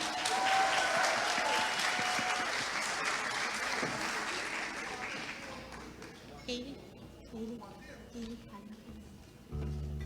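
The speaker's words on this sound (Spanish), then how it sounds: "Un fuerte aplauso para Kaylee Peters." An audience at a Christmas song festival for kids and teens bursts into loud, dense applause for a singer, fading after several seconds as scattered voices and a shout follow.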